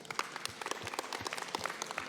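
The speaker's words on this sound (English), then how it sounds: "Let's give them a huge round of applause." Steady applause from an audience at a state dance championship, dense overlapping claps filling the whole stretch at a moderate, even level.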